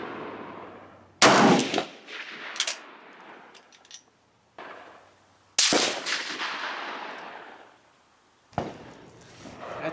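A K31 rifle firing GP11 ammunition at an outdoor shooting range, giving three loud, sharp reports several seconds apart. Each shot is followed by a fading echo, with quieter handling noises in between.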